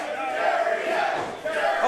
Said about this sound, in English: Hold on, listen to the crowd, baby.